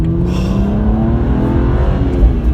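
A turbocharged BMW 1 Series M accelerating, its engine note rising steadily in pitch, loud and close, heard alone from inside the car.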